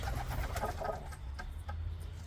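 Pigeons in a coop of breeding birds, several cooing at once in steady low rolling calls, close and moderately loud, with a few brighter wing or movement sounds mixed in.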